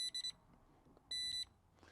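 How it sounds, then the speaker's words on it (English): A Gochifix LG0116 16-line laser level tilted past its auto-leveling range sounds its warning: sharp, high electronic beeps in a quick triple burst, then a longer beep run after a short gap, faint and close in a quiet room. "If you tilt this past the 4 degrees auto leveling capability, it warns you"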